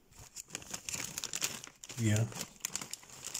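A bag of Funny-frisch Currywurst-style potato chips crinkles and rustles up close in repeated bursts, heard beneath someone speaking.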